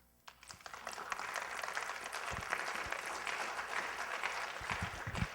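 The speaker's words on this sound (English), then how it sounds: "Love if everybody claps first" Audience applause at a Launchup startup talk event, a steady wash of many hands clapping that rises quickly and holds loud and dense throughout, with no talking over it.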